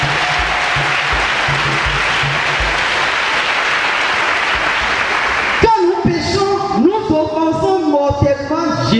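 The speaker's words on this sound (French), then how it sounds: "Acclamez pour vous-même" A church congregation bursts into applause partway through, the clapping dense and loud with a few voices rising over it, after a stretch of steady room noise.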